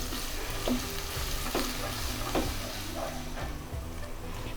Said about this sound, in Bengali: পেঁয়াজটা নরম হওয়া পর্যন্ত একটু নেড়ে নেড়ে ভেজে নিতে হবে।